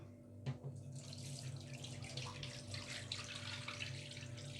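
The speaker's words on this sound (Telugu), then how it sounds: "ఇప్పుడు మళ్ళీ ఈ వాటర్ కూడా వంపేద్దాం" Rinse water from washed rice is poured out of a vessel into a sink, a steady close splashing gush that continues throughout over a low background hum.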